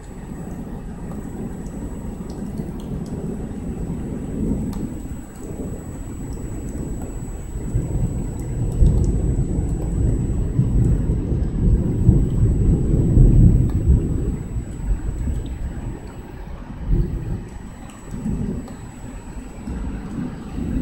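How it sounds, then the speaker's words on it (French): Distant thunder rolls through steady light rain in a storm over Amiens, long low rumbles swelling and fading across the stretch with no speech. "les coups de tonnerre commencent à redevenir longs à venir"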